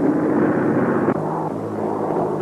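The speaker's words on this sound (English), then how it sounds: "And now, they're arriving by airplane." A steady propeller-plane engine drone fills the clip, a broad rumble that shifts slightly partway through, with no voices.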